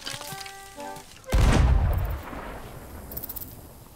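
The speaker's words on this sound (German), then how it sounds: "Ein Skelett hat auf mich geschossen." Skeletons firing guns in the pirate game Sea of Thieves: one loud, booming shot lands suddenly after a short musical phrase and decays into a rumbling tail, followed by fainter game ambience.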